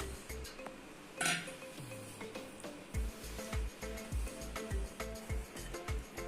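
Sesame ladoo mixture for white sesame balls being mixed in a bowl with a little warm milk, giving a steady series of soft knocks and scrapes of a spoon against the bowl, close and fairly quiet.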